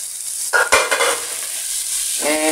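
White rice for Thai-style pineapple fried rice hits a hot wok with pineapple, sizzling steadily while a spatula scrapes and clatters in short bursts, close and loud, with no talk.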